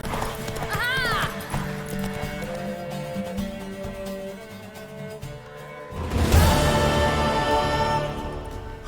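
Horse hooves clip-clopping at a gallop in The Witcher 3 game, with a whinny early on and a louder surge of hoofbeats near the end; a person urges the horse on in the background.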